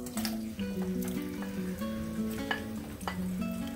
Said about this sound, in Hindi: सबसे पहले मैंने पॉट में 1/2 कप ऑयल लिया, इसमें मैं अनियन डाल दूंगी